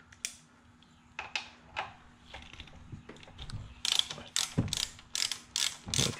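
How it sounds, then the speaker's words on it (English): A Torx wrench ratchets while loosening a bolt on a C4 Corvette alternator, giving a run of sharp, close clicking bursts that quicken and grow louder toward the end. "we're gonna use our Torx here on"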